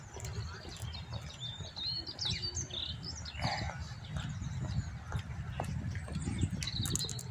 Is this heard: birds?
yes